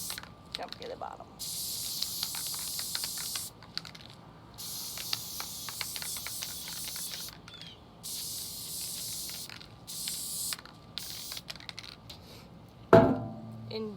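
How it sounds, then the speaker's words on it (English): Loctite spray adhesive hisses from an aerosol can in repeated long bursts of a second or two each, separated by short pauses, loud and close, with a clunk near the end as glitter temporary tattoo material is coated. "make sure like 5 or 6 inches away and spray the whole thing."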